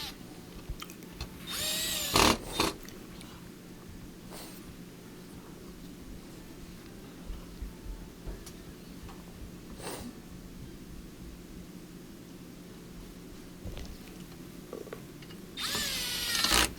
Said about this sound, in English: Put those 4 screws that hold the console onto the frame.